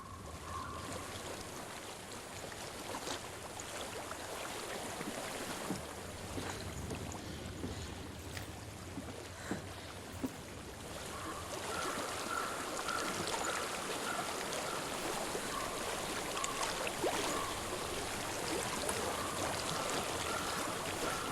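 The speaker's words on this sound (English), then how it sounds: "I hear water." A flowing stream in the video game Hellblade: Senua's Sacrifice, giving a steady rushing wash of water with a light breeze, continuous and fairly close, with no talk.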